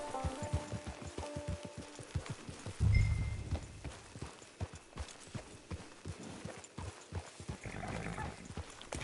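Steady clip-clop of horse hooves trotting in a video game, with a brief low thump partway through and faint patter in the background.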